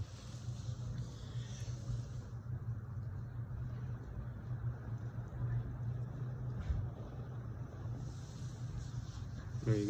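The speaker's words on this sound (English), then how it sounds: "it's pretty windy out here" Steady wind rumbles and buffets a microphone outdoors, a continuous low roar with occasional gusts.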